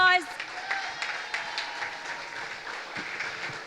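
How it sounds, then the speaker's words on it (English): A crowd at an open-air political public meeting applauds, a loose, scattered spatter of clapping after a brief tone at the start, with a voice carrying over it. "Let us join together and give the Honorable Minister a round of applause."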